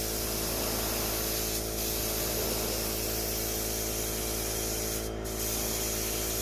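Continuous close spray-can hiss as a Pantera De Tomaso RC drift car body is painted, a steady spray with two very short gaps over a low background hum.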